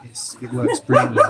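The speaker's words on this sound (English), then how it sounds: "That's my dog." A dog barks in short yips and bow-wows indoors, a few quick sounds over roughly a second, partly overlapping a man's speech.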